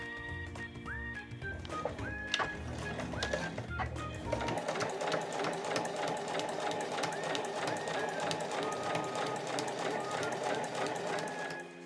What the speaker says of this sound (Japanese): 今度はこの端から 2mm のところを縫います。 際を縫っていきます。